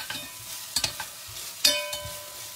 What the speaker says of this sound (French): on blanchit les oignons avec le beurre et l'huile